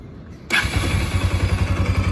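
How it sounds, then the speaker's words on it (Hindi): A Bajaj Pulsar AS200 motorcycle with a seized engine is started after a quiet moment, catching abruptly and settling into a steady, close, loud thumping idle with a regular pulsing beat and no talk. "और आपको एक बार साउंड भी चेक करवाता हूँ इंजन का,"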